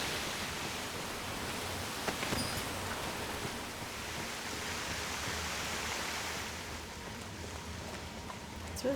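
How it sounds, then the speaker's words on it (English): Cave ambience in the Dragon's Dogma: Dark Arisen game, a steady wash of dripping and trickling water throughout, with a few brief louder drips standing out. "A lot of little drippy drips down here."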